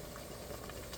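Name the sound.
seasoned shrimp boil water boiling in pot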